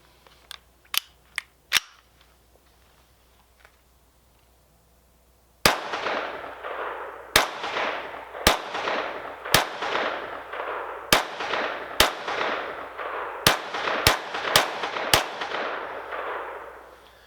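A Kel-Tec CMR-30 rifle fires ten rounds of Federal 50 grain ammunition outdoors, sharp loud cracks spaced about a second apart, with a few faint distant shots before the string begins.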